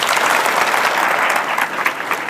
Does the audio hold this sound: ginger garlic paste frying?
no